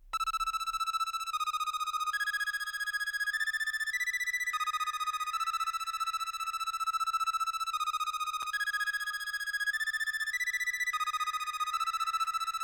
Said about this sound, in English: Next is the last melody, which sounds like this without effects.